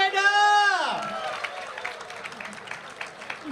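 A crowd breaks into applause for competition winners at an Indonesian Independence Day ceremony, rising after an amplified voice and settling into steady, moderately distant clapping.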